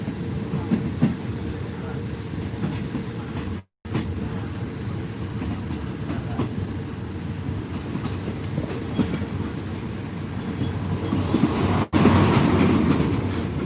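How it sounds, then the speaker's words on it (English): A steady rumble of a train rolling along the rails between Bangkok and Ayutthaya, Thailand, fills the whole stretch, with rhythmic clatter and a muffled voice underneath, heard from inside a carriage. "Now I'm on the train"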